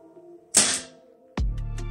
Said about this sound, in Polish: I ostatni strzał